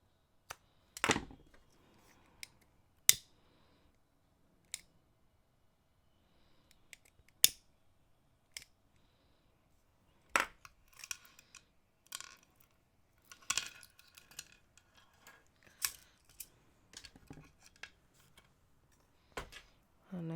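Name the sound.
scissors snipping off cord ends of a knotted necklace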